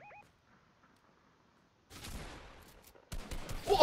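Gunfire in the Fortnite video game: after a near-silent stretch, dense bursts of rapid shots break out, pause briefly, then return louder, like a close firefight.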